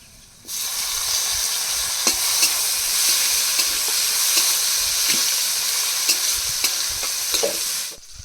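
Chopped tomato drops into a hot frying pan with garlic and is stirred, a loud steady sizzle with scraping spoon strokes running for about eight seconds.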